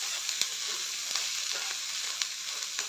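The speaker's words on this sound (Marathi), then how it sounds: "सर्व साहित्य घालून 1-2 मिनटं परतून घेऊया." Cooked corn sautéed with chili flakes, salt and other ingredients in a pan, a steady close sizzle with occasional clicks of stirring, no voices.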